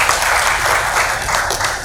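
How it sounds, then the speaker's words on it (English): Audience applause at a real estate panel discussion summit, a steady dense wash of many hands clapping together for the full stretch at fairly loud level. "Round of applause for that."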